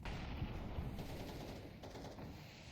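Rapid gunfire from the video game Counter-Strike 2 in a competitive esports match, dense continuous bursts of shots filling the whole stretch at steady loudness, with no talk over it.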